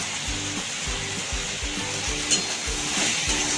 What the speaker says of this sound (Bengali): ঢেঁড়স একটু ভাজা ভাজা করে আমরা আগে একটু নুন দিয়ে দেবো।